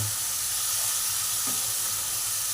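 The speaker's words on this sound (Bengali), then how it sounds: "দিয়ে এবার একটু ভালো করে নাড়িয়ে চাড়িয়ে কষিয়ে নেব" Spice paste for a prawn, pumpkin and potato curry sizzles in hot oil with a steady, hissing sputter, a brief stirring scrape partway through, close up with no voices.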